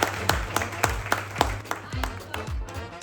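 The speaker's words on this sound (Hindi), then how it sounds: "तालियां तालियां बजती रहनी चाहिए।" Scattered applause greets top-performing agents at a real estate awards event in Dubai: sparse, uneven claps from a modest crowd with a steady low hum underneath, some claps louder and nearer than others.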